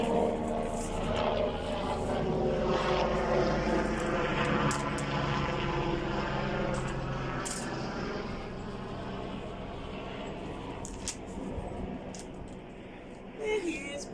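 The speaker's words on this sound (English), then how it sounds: "There are helicopters, people mowing their lawns." A loud, steady helicopter engine drone rumbles overhead throughout, easing slightly toward the end, with some faint background sounds.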